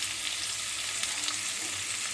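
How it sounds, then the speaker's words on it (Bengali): Onion frying in a pan for a kochur loti dish gives off a soft, even hiss that holds steady and close, with only faint sputters breaking through. "পেঁয়াজটা একটু ভাজা ভাজা হোক"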